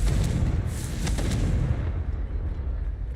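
A magical Confringo blast in a fantasy wizard game, heard as a sharp boomy explosion burst with crackling debris that quickly fades into a rumbling tail.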